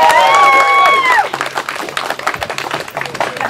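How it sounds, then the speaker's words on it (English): An audience at a live show breaks into scattered clapping and applause right after a world-record stunt performer's bed-of-glass act, a short burst following a moment of voice. "Round of applause. You did a great job."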